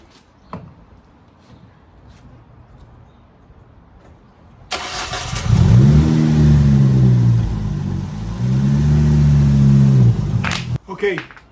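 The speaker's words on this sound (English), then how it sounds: "Let's get this car up on the ramps." A Ford Focus ST225 engine starts after a quiet pause, then revs loudly in two strong surges as the car drives up onto ramps, close by, with a brief clunk at the end.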